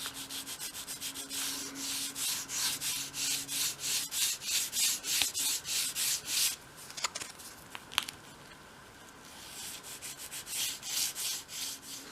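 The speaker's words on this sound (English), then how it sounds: "take a piece of sandpaper and just sand inside that groove" Sandpaper worked back and forth inside a groove of a small 1/12 scale wooden model piece, a close, steady run of rhythmic rasping strokes with a brief pause near the middle.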